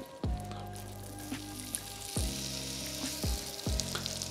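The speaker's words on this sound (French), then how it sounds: "ce que je vais faire maintenant, c'est juste faire venir mes oignons" Onions hitting a hot pan in a wood-fired oven kitchen sizzle and fry loudly, with sharp bursts each time they are stirred or tossed, repeating roughly every second or so before settling back to a steady crackle.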